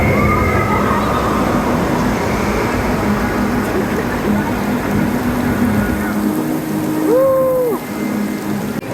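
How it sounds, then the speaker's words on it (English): Heavy rain pours down steadily in a loud, dense wash of noise under a ride canopy during a thunderstorm at Magic Kingdom, with a faint tonal siren-like sweep rising briefly near the end. "Under the Tron canopy, in the middle of a downpour"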